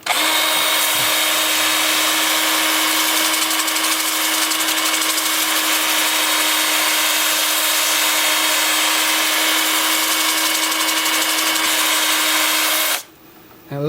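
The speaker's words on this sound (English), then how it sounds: "with the lathe spinning forward at about 350." A wood lathe spins a weathered mountain mahogany piece at about 350 rpm, giving a steady loud whirring drone with a constant hum that runs throughout and cuts off abruptly near the end.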